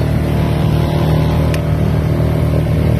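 A small outboard motor on a 12-foot jon boat drones steadily and loudly throughout, with no talking over it.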